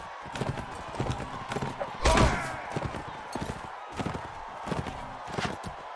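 Horse hooves clip-clop in a steady, rapid rhythm in the Mount & Blade: Warband video game, with a louder thump partway through and a voice talking underneath.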